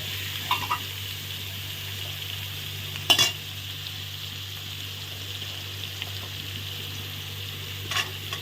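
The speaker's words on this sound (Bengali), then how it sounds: "পেঁয়াজটা এখন ভাজছি" Onions frying in a pan for a mutton curry make a steady, close sizzle with a soft hiss, and one brief louder crackle flares up midway. No one talks.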